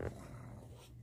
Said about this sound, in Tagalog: yung aso ko gising pero naghihilik.